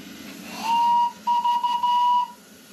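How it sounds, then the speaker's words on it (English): A small steam locomotive's whistle sounds two clear, steady tones, the first short and the second longer, loud and close over a low hiss at a miniature railway. "a vital part of the engine is the whistle"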